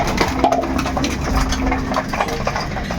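Racing pigeons coo in low, soft murmurs amid a busy, rustling background in a loft, with a few brief flutters mixed in.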